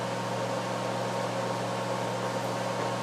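A Breville air fryer preheating, giving off a steady, even whir of fan noise with a low hum underneath, unchanging and close throughout.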